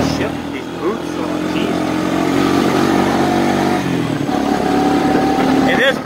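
A 1992 Suzuki Quadrunner 300 ATV, freshly started after sitting five or six months, runs close by with a steady mid-pitched engine drone that rises and falls slightly as it revs, loud and continuous throughout.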